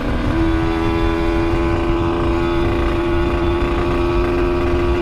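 Aprilia RS 125 two-stroke motorcycle at speed on a straight road, a loud, constant high-pitched engine whine with heavy wind rush, unbroken throughout.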